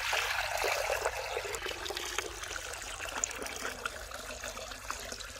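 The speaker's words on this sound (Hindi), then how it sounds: "पानी डालेंगे कढ़ाई में।" Water poured into a wok on a stove while making beef paya, a continuous splashing trickle that is loudest at the start and settles into a softer, steady dribble.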